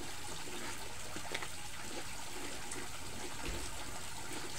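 Water runs steadily while laundry is hand-washed, a continuous splashing trickle that stays fairly quiet and even throughout.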